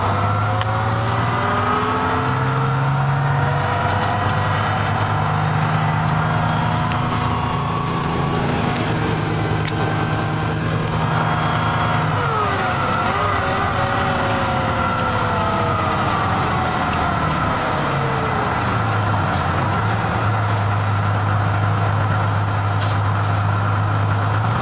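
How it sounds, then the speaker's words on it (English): A 1984 GMC T8J204 RTS transit bus with a Detroit Diesel 6V92 engine runs loud and close, its diesel drone rising and falling through gear changes as it accelerates and slows over roughly twenty-five seconds. "these signify the use of the Detroit Diesel 6V92 engine, which sounds like this"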